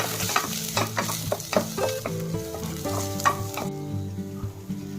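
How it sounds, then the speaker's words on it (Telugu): Cinnamon stick, cloves and black pepper frying in a pan, with a steady sizzle under repeated scraping stir strokes and faint background music tones, close and moderately loud. "కొంచెం మిరియాలు వేసి బాగా ఫ్రై చేసుకున్నాను"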